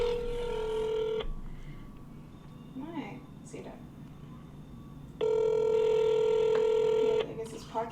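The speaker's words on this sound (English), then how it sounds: "I'm going to call my friend Tim on the phone" DTMF tones from a telephone being dialed to place a call, two loud sustained tone bursts at start and end separated by a quieter gap with faint background sounds.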